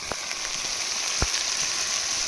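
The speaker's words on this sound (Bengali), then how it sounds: "মশলাগুলো খুব সুন্দর করে কষিয়ে নিচ্ছে" Spices sizzle in hot oil while being cooked down for Bengali doi katla, a steady soft frying hiss with a couple of faint clinks from stirring.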